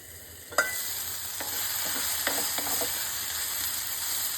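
Tomato pieces fry in a pan for a homemade cucumber chutney, a continuous sizzle that begins with a sharp hiss as they go in, with light stirring clicks and no voices.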